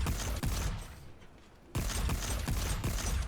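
Turret gunfire in Volcanoids comes as bursts of heavy, close, loud shots: one volley, a brief lull, then another sustained burst.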